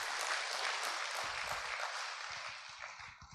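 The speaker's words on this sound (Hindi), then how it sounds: "तो आप पहले एक तो ताली आपके लिए बजाइए," A crowd clapping at a cultural night during a national jurists' conference, a soft, steady patter of applause heard from a distance that tapers off near the end.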